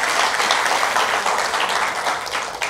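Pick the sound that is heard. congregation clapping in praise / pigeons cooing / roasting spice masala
congregation clapping in praise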